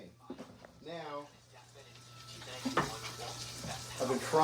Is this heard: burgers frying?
yes